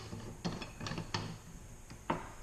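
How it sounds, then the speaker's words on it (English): A clamp on a tube bender is tightened by hand, giving several short ratcheting mechanical clicks and clunks spaced unevenly, close and fairly quiet. "Tighten the clamp here."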